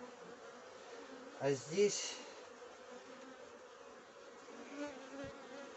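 Bees hum faintly and steadily around a horizontal beehive holding 48 frames. A couple of brief, louder bursts sound close by, and there is a short vocal sound over the buzzing.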